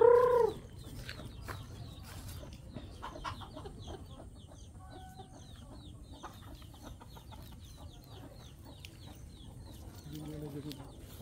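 Soft, scattered clucking from a few chickens with a mother hen on a farm, fairly quiet, with an outdoor background hum and a couple of short louder calls at the start and end.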